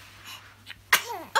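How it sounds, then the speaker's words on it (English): A baby girl gives a single small sneeze near the end, preceded by faint quiet sounds, close and brief. "You had a sneezy sneeze."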